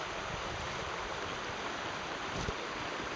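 Steady, soft rush of moving water in a deep river pool on the River Duddon, a gentle continuous wash of ripples and swirls with a low rumble and no voices.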